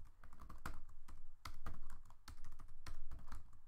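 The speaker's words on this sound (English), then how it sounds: "You can see how bad my typing is. I go too fast." Fast typing on a computer keyboard: a quiet, continuous clatter of rapid keystrokes with occasional sharper clicks, heard alone without any voices.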